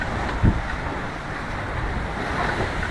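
Wind and waves wash around a solo sailboat under sail off Mexico, heading north from Puerto Vallarta, in a steady, broad rushing roar with a single low thump near the start.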